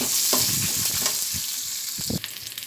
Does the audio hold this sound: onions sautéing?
yes